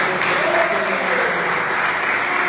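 A church congregation claps together in praise during a service, a thick, steady roar of hand clapping filling the space throughout, with a voice faintly beneath.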